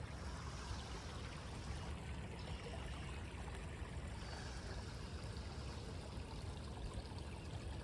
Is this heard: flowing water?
yes